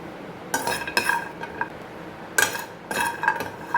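Whole spices, including turmeric root and black pepper, dry roasted in a pan for curry chili powder, with loud close bursts of scraping, rattling and clinking as they are stirred, separated by short quiet gaps.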